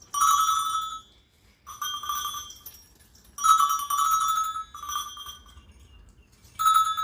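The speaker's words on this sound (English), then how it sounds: "if you could imagine lots of those little bells ringing, it would be like a little herd of goats" Many little bells ring together at a wassail in bursts, a bright jangling shimmer that comes and goes in several clusters with brief quiet gaps between them, close and clear.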